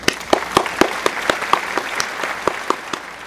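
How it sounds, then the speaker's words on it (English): A small number of people clap in a steady, evenly spaced rhythm of sharp, separate claps during a casual livestream-style reaction session. There is no talking. "everybody just clap it up for them."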